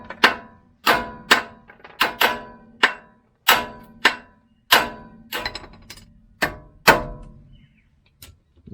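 Hammer blows tapping underneath a suspension arm on a Nissan Patrol to pop it loose, about a dozen sharp metallic strikes in an uneven rhythm, each ringing briefly, close and loud.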